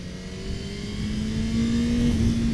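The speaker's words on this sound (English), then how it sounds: "Engine braking is pretty strong in sport mode." Engine braking on a 2021 Honda CBR1000RR-R SP sport motorcycle in rain mode, a steady mid-pitched engine drone that holds and swells slightly louder, heard close and alone without talk.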